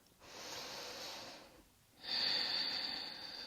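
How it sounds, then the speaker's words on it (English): A long, deep breath drawn in during a yoga pose, then a second breathy rush of air, close and steady, with no talking. "One more big breath in."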